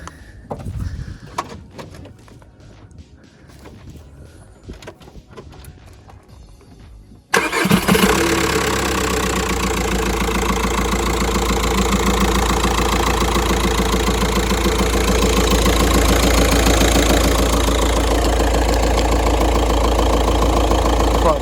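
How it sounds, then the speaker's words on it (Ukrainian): A Skoda Octavia TDI diesel with 186,000 km starts after several seconds of quiet shuffling, then settles into a loud, steady, slightly knocking idle up close. "Зараз нам заведуть автомобіль."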